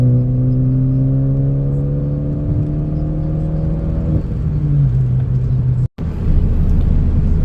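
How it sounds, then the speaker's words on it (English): Ford Focus ST accelerating hard in 4th gear on flex fuel, heard from inside as a droning engine note climbing steadily in pitch, then easing after a brief dropout, with no talking. "I'm gonna downshift the 4th gear and let's nail it."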